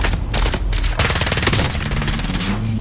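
Sustained automatic gunfire in the video game Call of Duty: Warzone, loud rapid bursts rattling almost continuously for about three seconds, close and harsh with no talk over it.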